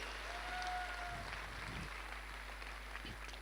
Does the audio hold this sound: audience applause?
yes